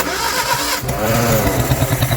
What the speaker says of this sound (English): 30 years parked up and she's firing up and idling